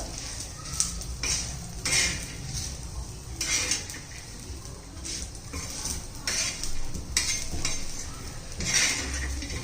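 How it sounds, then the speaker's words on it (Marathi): Peanuts with red chilli powder tossed in a pan for chutney, a spoon scraping and clinking against the metal again and again in an irregular rhythm, close and steady over a faint sizzle. "शेंगदाणे घातलं पुन्हा 1 मिनिट आपण हे परतून घ्यायचे"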